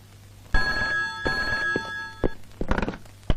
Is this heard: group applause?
no